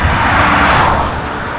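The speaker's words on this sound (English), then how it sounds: "I just wanted to show you what the road looks like and how fast these cars go." A fast car sweeps past on a wet road in Glen Affric, its broad tyre and engine roar loud and close for a moment before easing off as it moves away.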